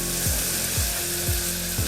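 Ginger garlic paste sizzles in a hot pan while being cooked for no-onion rajma, a steady near frying hiss with four regular stirring scrapes about every half second.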